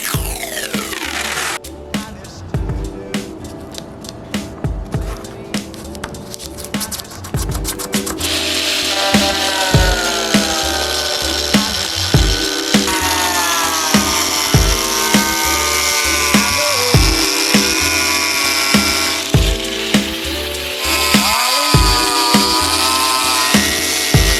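A power tool cuts a Hyundai Genesis Coupe front lip into two pieces, the saw's harsh whine rising and biting in repeated close, loud bursts with short pauses between passes.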